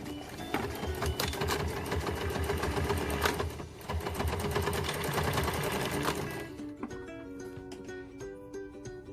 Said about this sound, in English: sewing this fast to this last loop.